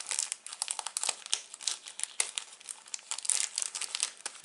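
A handmade greeting card is pulled from its crinkly cellophane bag, close, bright crackling and rustling throughout with sharp little crinkles, no voices.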